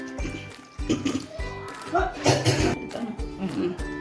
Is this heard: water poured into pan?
yes